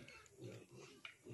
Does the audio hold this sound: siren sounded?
no